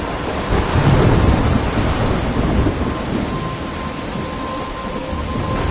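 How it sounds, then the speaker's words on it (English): A thunderstorm rolls with heavy rain pouring down. A deep rumble of thunder swells early and fades under the constant loud hiss of rainfall, with no voices. "I'm trapped in a storm?"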